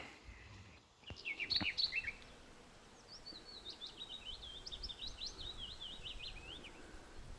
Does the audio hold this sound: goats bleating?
no